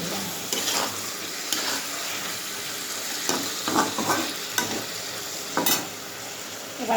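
Eggplant fries in a hot pan with a continuous sizzle. Repeated scraping stirs and clinks of a spatula cut through it.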